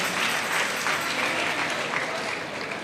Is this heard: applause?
yes